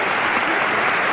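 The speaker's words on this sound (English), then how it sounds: "Applause, applause, applause." Game show studio audience applauding a contestant, a dense, steady wash of clapping at even loudness throughout with no break.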